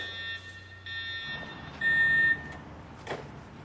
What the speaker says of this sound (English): You should also be able to recognize the sound of your building's evacuation alarm